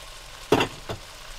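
Vegetarian mushroom rice being stirred with sesame oil in a wok, two short scraping strokes close by, the first louder, over a quiet background.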